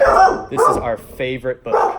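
A dog named as barking indoors gives a couple of short sharp barks between a person's spoken words, close and fairly loud.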